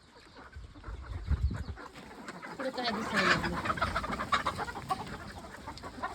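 Hens cluck and murmur softly nearby, a few calls rising over a low background, with a brief spoken phrase mixed in.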